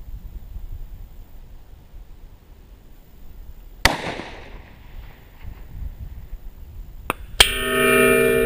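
A Howa 1500 .243 rifle in an XLR chassis fires one sharp, loud shot that echoes and decays across open ground, followed by fainter cracks and a burst of closer noise near the end.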